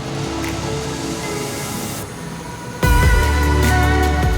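Fresh antifreeze coolant is drawn by vacuum into a 2006–2012 Nissan Pathfinder radiator, a continuous hissing, gurgling rush that turns louder and fuller partway through.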